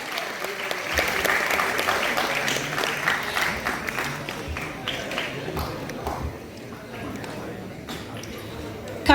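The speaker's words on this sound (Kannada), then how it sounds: "ಅವರಿಗೂ ಕೂಡ ನಿಮ್ಮ ಚಪ್ಪಾಳೆಗಳ ಮೂಲಕ ವಂದನೆಯನ್ನು ಸಲ್ಲಿಸುವಂತಹ ಸಮಯ" Audience at a National Education Day event applauds a dignitary's arrival, a sustained dense wash of clapping that holds for several seconds before tapering, with a voice speaking over it.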